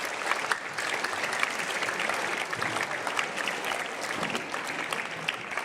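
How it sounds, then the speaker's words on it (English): Sustained applause from an audience at a high school orchestra concert, a dense, steady wash of many hands clapping at even loudness throughout, with no speech over it. "Let's all give him a round of applause."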